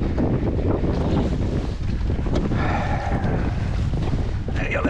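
Strong wind buffets the microphone on a small fishing boat on open water, with a continuous low rumble and gusty roar and faint splashing of waves throughout.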